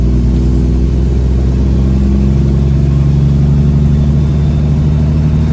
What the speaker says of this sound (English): I don't know if you guys can hear it, but the truck is still hesitating.